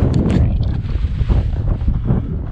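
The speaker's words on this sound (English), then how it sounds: "That wind whipped right through you." Chilly wind blowing hard outdoors during a rabbit hunt, a loud, steady rumbling gust buffeting the microphone throughout with no pauses.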